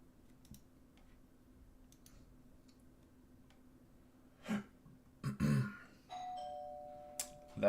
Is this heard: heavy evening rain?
no